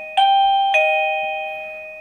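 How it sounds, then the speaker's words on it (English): A Govee waterproof wireless doorbell chime rings a clear two-tone ding-dong, two bright struck notes whose tones ring on and slowly fade, loud and close with no talking. "you hit the button, and that's the sound it makes"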